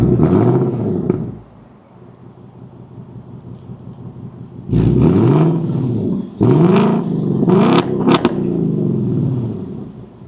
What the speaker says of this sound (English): you stand outside of the car, and the car revs for you